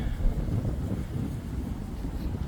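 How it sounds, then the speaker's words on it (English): Wind gusts across a hilltop at a Thai temple site, a continuous low buffeting rumble against the microphone with no voices. "and it's been pretty windy."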